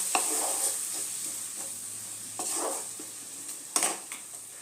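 Tomato paste and spices fry and get stirred in a pan for a potato-chickpea curry, a steady sizzle broken by a few sharp scrapes and clinks of the spoon against the pan, with no one speaking.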